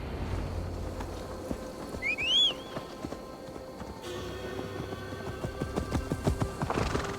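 Horse hooves clip-clop steadily through a forest in Assassin's Creed Valhalla, with a short, bright whinny rising near the middle and continuous game ambience underneath.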